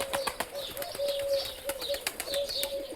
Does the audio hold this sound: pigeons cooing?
yes